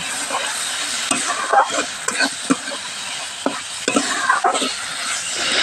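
Aje fish sautéed in a thick spice masala sizzles steadily in the pan while a spoon scrapes and stirs in quick, irregular strokes, close and fairly loud.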